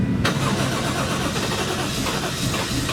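Nissan S14 engine cranks briefly then fires and catches, settling into a loud, steady rumbling idle close by with no talking.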